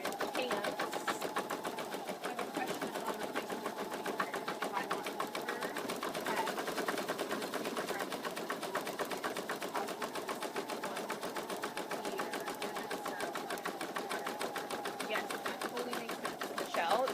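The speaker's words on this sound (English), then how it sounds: "we're going to stitch out those the pants" An embroidery machine stitches out a floppy-eared bunny stuffie's pants design, a fast, even needle rattle running steadily and close throughout with no breaks.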